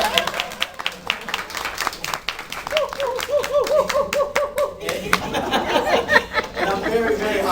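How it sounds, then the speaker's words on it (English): Audience clapping at a bi-monthly community meeting, crisp individual hand claps building into brisk applause with scattered chuckles and laughter, while a voice speaks partly over it. "please clap"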